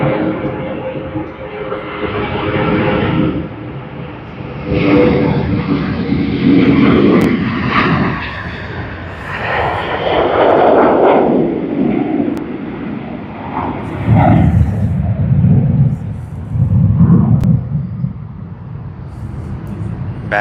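A Jetstar Airbus A321 on flight JQ986 from Sydney to Perth roars loudly at Sydney Airport during busy peak hour, its engine noise swelling and fading in broad waves.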